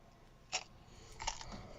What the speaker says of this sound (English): You can hear it crunching away.